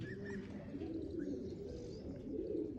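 Pigeons coo softly and repeatedly in low, throaty murmurs, with a few faint chirps over a steady background hum.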